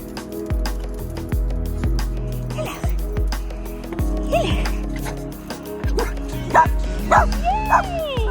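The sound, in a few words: puppy barking and whimpering happily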